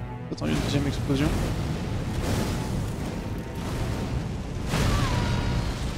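A loud, booming blast from the video game Elden Ring: Shadow of the Erdtree rumbles under ongoing talk, with a fresh burst of noise near the end.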